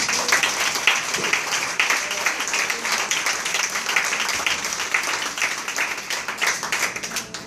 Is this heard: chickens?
no